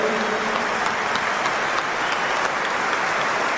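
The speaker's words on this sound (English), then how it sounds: "we should give them a big round of applause as well" Thunderous crowd applause inside a Liverpool football ground during a celebration, a continuous dense roar of clapping from a huge stadium audience, unbroken and loud throughout.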